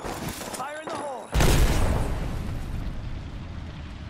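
A video game arc star grenade detonates with a sudden loud burst that decays into a long rumbling tail, following a short stretch of low chatter and a whistling tone.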